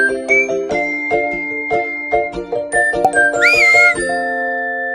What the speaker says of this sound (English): You heard the whistle.